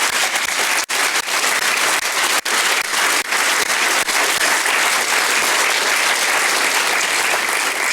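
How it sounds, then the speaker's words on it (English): Conference audience applauding the program committee at a walking conference, a loud, steady wash of many hands clapping that continues unbroken throughout, with no talk over it. "please, would those people stand up and receive a round of applause for the voluntary work they've done"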